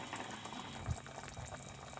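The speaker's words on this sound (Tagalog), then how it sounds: "Kumukulo." Salmon sinigang soup with okra and pechay bubbles in a pot, a faint, steady low simmer with soft bubbling and a slight rumble.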